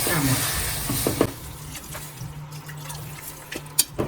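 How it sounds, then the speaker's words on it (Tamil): Water is poured over goat head meat in a pan of Kongu-style masala, a splashing pour at first, then quieter trickles, drips and a few clinks, with some speech nearby. "இப்போ தண்ணி ஊற்றிடலாமா"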